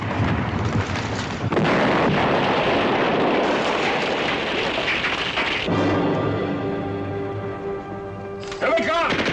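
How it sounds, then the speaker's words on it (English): Mortar shells explode in a war film scene: continuous heavy rumbling blasts and roaring debris for several seconds, then a sustained whistling tone, with a voice shouting briefly over the barrage. "Mortar, get down."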